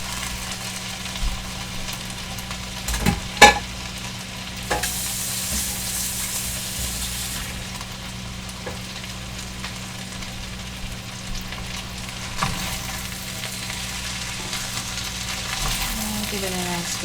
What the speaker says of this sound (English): Give it a nice good stir.